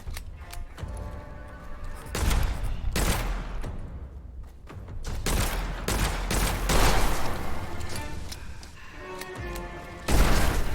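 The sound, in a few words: pistol gunfire in the video game Witchfire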